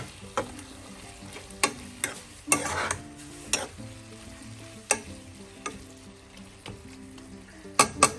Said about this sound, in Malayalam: അതും കൂടെ ചേർത്ത് നമുക്ക് നന്നായിട്ടൊന്ന് വഴറ്റാം.